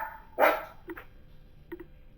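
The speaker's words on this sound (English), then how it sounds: "So when he sees one, he just has to bark." A dog out in the country barks at a cat, one loud sharp bark followed by two fainter short yips, close by against a quiet background.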